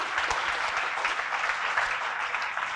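Dense applause from an audience at a business awards ceremony, steady and sustained, with clapping filling the whole stretch.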